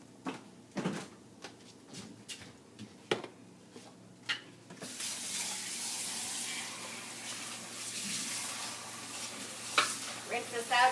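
Running water from a tap pours steadily as a container is rinsed out at a kitchen sink, a broad continuous wash that starts partway through after a few scattered clinks and knocks, with occasional bumps and rattles of the container.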